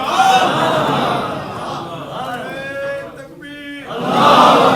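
Crowd at a Sufi religious gathering raising a loud chanted slogan in unison, sustained voices swelling at the start and again at the end, with a lone voice calling out in the middle.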